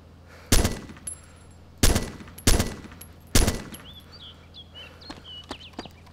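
Gunfire in a shooter video game defending a villa: four sharp, loud shots spaced unevenly, followed by fainter distant pops and small clicks.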